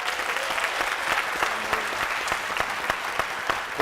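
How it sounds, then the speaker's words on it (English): An audience at a Chicago faith and spirituality panel event gives the panelists a round of applause, dense steady clapping close by with a few sharper individual claps standing out, lasting throughout. "Can we give our panelists a round of applause?"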